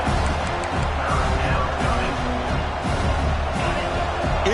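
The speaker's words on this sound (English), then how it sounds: "It's early, but this crowd is fired up. Listen to this noise here." Loud, dense stadium crowd roar from a college football game in the NCAA 26 video game, a constant wall of cheering with no pauses.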